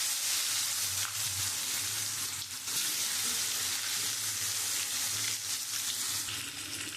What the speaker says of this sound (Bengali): আমি ওই মাছ ভাজার তেলের মধ্যে আমি বেগুনগুলো একটু ভেজে তুলে নেব।